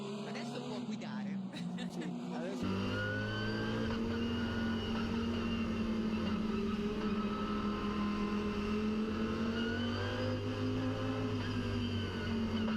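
Audi R8 LMS GT3 race cars roll together at very low speed just before the start on a slippery Monza circuit, a steady low engine drone holding throughout while someone talks over it.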